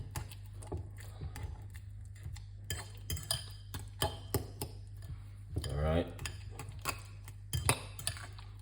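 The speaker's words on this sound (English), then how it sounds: "So you want to make sure you mash out the banana" Ripe banana mashed by hand in a bowl for Jamaican fritter batter, a run of irregular clicks, taps and scrapes of utensil on dish, close and fairly quiet, with a squelchy smear midway.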